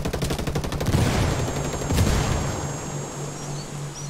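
Gunfire in the video game Ghost Recon Wildlands opens with rapid automatic bursts, then a couple of heavier shots that fade into a quieter ambience with a thin high whine.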